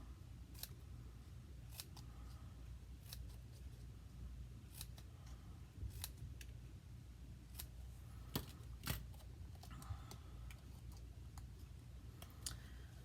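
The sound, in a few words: cutting paper with small snips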